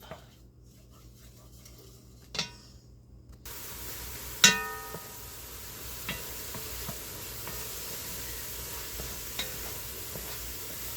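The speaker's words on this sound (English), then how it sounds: "And we're just going to fry this up." Celery and onion fry in a quarter cup of butter in a pan, giving a steady soft sizzle with occasional stirring clinks. It carries on alone and close without talk.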